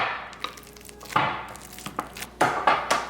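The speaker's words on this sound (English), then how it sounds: "just squeeze it in there until you mash it all in together." Ripe bananas squeezed and mashed for banana bread, giving a series of soft, wet squelching presses in an uneven rhythm, close and fairly loud, with no talking.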